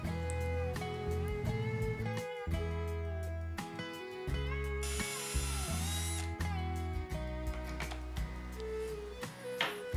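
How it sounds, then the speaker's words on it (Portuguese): Power drill boring holes into a wooden stand for a coffee filter holder, a steady whine with pitch shifts as the bit bites and eases, loud and close throughout. "eu já escariei agora e vou fazer a furação."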